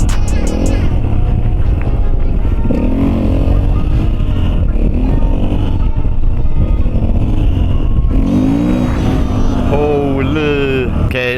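A Husqvarna FE450 motorcycle engine drones loud and close while riding, its pitch rising and falling as the throttle changes, with a rider's voice talking over it at times.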